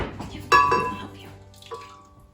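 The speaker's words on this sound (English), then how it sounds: "we're actually going to start with pouring in the 3/4 cup of unsweetened coconut milk first" Unsweetened coconut milk poured into a blender as a base for a pineapple dessert: a sudden splash, then a short, fading liquid stream, close by with faint background voices.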